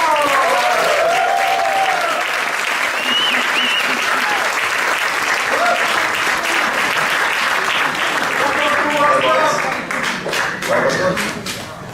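A live audience at the Sugar Club in Dublin gives a long, loud round of applause for guests coming on stage, with dense sustained clapping and scattered cheers that thin out near the end, while a host talks over it.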